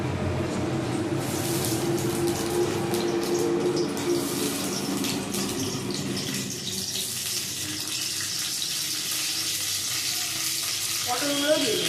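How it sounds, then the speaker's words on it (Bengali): Cauliflower florets frying in hot oil in a wok give a steady, close sizzle with crackling bursts and occasional stirring scrapes, continuing throughout. "কড়াইয়ে তেল দিয়ে আগে ফুলকপিগুলো ভেজে দেবো"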